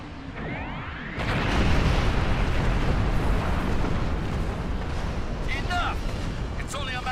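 Doomsday Weapon firing in Star Trek Online, a sustained loud roaring barrage of blasts that swells after a quieter opening and rumbles on with a few higher bursts and tones over it.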